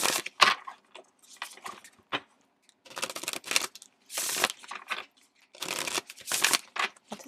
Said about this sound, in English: I'm going to shuffle one more deck